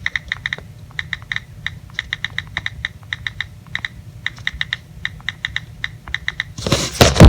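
Fingers tap on an iOS device's on-screen keyboard, a quick run of crisp clicks in short bursts with small pauses, close and clear, ending in a louder rustle.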